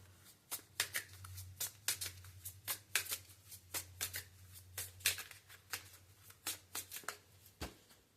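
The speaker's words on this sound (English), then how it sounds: "And let me pull another oracle card here on that." A deck of oracle cards is shuffled by hand in a quiet room, a close, soft run of about twenty quick irregular riffling snaps over a faint low hum.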